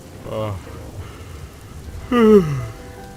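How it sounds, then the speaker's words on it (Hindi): Heavy rain pours at night at a rural in-laws' home without electricity, where the family had been sleeping upstairs; a steady low hiss of rainfall runs throughout, with voices rising briefly over it. "बारिश हो रही है"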